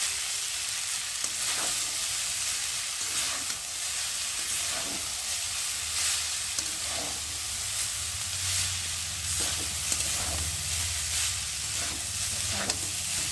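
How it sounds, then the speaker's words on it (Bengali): Chow mein noodles frying in hot oil give a steady, close sizzle throughout, with occasional scraping stirs and a low rumble underneath. "আমি তেলের মধ্যে চাউমিনটা ভালো করে একটু ভেজে নিয়েছি"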